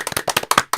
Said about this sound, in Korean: 박수 한번 보내주시죠